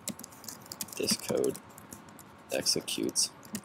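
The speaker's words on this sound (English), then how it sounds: "So we're going to type in function, open bracket, close bracket, curly brackets" Code is typed on a computer keyboard in brief bursts of crisp key clicks, heard close while a person talks over much of it.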